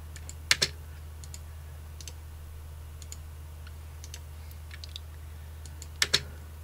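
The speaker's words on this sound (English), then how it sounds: "we use a right mouse click for curves and a left mouse click for sharp edges" Computer mouse clicks while digitizing embroidery on a computer, two quick pairs of sharp clicks, one near the start and one near the end, faint and isolated against a quiet hum.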